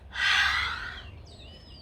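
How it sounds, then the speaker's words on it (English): A forceful exhale through the mouth during a yoga breathing exercise, one long breathy rush of air up close that fades, followed by a faint bird chirp in the background. "Breathe out, exhale through the mouth."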